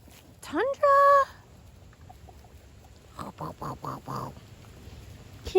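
Several pigs, including piglets, give a quick run of five or six short rhythmic grunts while being fed on a farm with goats, following an earlier high squeal or rooster-like call; a voice is heard faintly.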